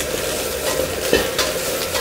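Onion, scallion, shiitake and napa cabbage stir-fried in rendered beef tallow give a steady, close sizzle with scraping stir strokes through it.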